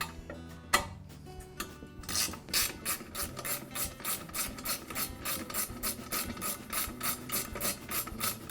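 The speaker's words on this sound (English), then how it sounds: "Now remove the guide wheel bracket from the old table and transfer it to the new." Metal parts of an MK Diamond tile saw table being handled as the guide wheel bracket is removed, giving a steady run of close rattling, ratcheting clicks after a few isolated knocks at the start.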